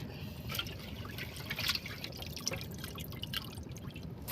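Water drips and trickles steadily while freshly caught fish are washed outdoors after iron-net fishing, with scattered splashes over a low, busy background.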